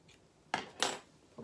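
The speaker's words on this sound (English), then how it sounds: "Right, so snip that off." Two quick crisp snips of scissors cutting sewing thread on a stitched fabric toy, close and quiet, alone.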